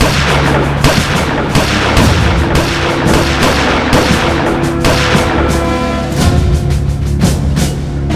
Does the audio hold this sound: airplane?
no